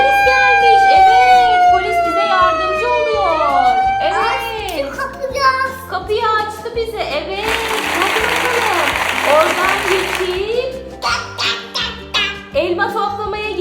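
Toy police car siren wailing loudly in rising and falling sweeps, then breaking into choppy electronic tones and a burst of noisy static, with a voice and adult talk mixed in around it.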